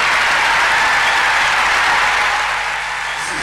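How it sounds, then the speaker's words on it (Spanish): A concert audience at Luna Park breaks into dense, steady applause, loud and close, fading slightly toward the end. "para quien pide un aplauso grande, Mirka"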